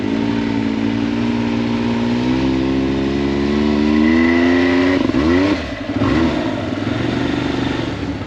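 Can-Am Maverick X3 side-by-side engine droning steadily up a gradual incline, its pitch rising slowly as the clutch belt slips, then dipping with a brief rattle before the close, loud engine sound resumes.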